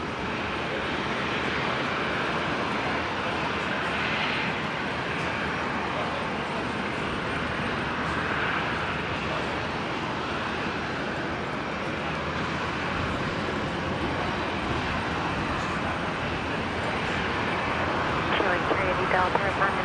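An airliner lands at Brisbane Airport, its engines a broad, steady roar that holds for the full twenty seconds, with radio chatter from air traffic control running underneath.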